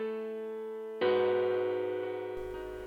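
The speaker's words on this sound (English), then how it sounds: "This is a hard piano that I'm getting from FL keys." A hard-edged piano patch from the FL Keys plugin in a track holds a sustained chord, then strikes a louder, brighter chord that rings out and slowly fades, with no voices.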